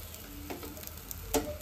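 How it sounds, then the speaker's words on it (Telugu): Pesarattu, a green gram dosa, roasting on a hot pan, giving a quiet, steady crackling sizzle with a few small clicks and one brief louder pop near the end, and no talking. "చూడండి, ఇలా రోస్ట్ అవ్వాలి."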